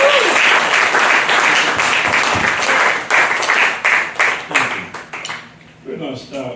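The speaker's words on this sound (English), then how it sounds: "Give these musicians a wonderful round of applause" An audience claps and cheers for a jazz quartet, loud dense applause that gradually thins into scattered claps and fades out.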